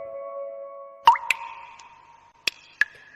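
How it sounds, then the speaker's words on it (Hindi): Water drips from a household tap in a few distinct plinking drops, clear and close against near silence, each with a short ringing tone. "तभी घर के एक नल से एक बूंद पानी टपकने की आवाज आती है।"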